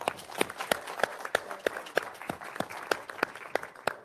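Audience applause at a committee meeting, a steady round of clapping with distinct sharp claps standing out through the four seconds, fairly close and moderately loud.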